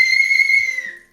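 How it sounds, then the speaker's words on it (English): A toy whistle blown once in a steady, shrill tone that holds for about a second before tapering off, close and loud, with no talking. "my whistle got wet. Does it still work?"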